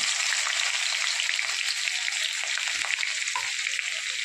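Garlic hitting hot oil already seasoned with cumin seeds and curry leaves for a Marathi matki dal kanda, giving a steady, loud, close sizzle and crackle that runs the whole time without pause.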